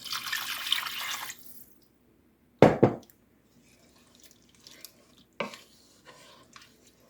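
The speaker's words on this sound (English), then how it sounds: "So we'll stir that in a little bit." Two short bursts of stirring and scraping taco soup ingredients in a pot, separated by quiet pauses, with a splash of running water at the start.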